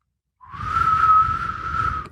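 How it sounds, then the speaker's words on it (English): A single loud, sustained whistle holds one high steady pitch for nearly two seconds, close to the microphone. "is that you whistling at max volume there?"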